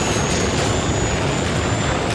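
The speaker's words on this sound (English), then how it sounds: "That chopper's dropping off more soldiers." A helicopter drops off soldiers in the 2008 video game Turok, a loud, steady roar of rotor and engine noise that continues without a break.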